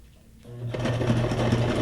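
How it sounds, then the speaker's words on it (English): A sewing machine running a straight stitch on paper for a junk journal file folder tab, starting up after a quiet moment and then humming steadily with a fast rhythmic needle chatter. "I'm going to use a straight stitch again."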